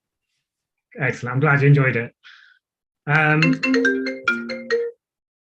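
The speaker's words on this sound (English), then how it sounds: "Sorry, that was my phone ringing" A mobile phone rings during a council consultative meeting, a short stepped electronic melody that follows someone speaking.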